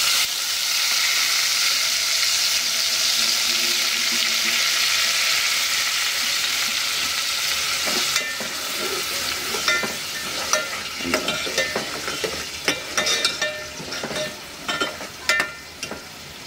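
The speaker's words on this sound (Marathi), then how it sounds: "आता ते फोडणीत टाकायचं।" Turmeric water poured into hot oil tempering for dahi kadhi hisses in a loud, continuous sizzle, followed by steady scraping and clinking of stirring in the pan.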